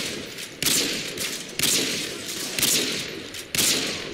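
Rapid bursts of automatic gunfire in the video game Call of Duty Modern Warfare 2, loud and close, repeating in roughly one-second volleys with steady rattling between shots.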